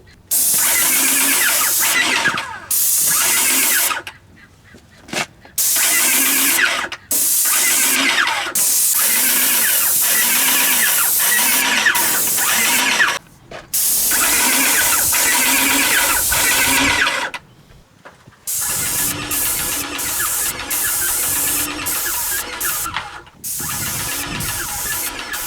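A MaXpray airless paint sprayer hisses loudly in long steady bursts, each spray pass cut by brief pauses as the trigger is released, with a faint mechanical whine underneath.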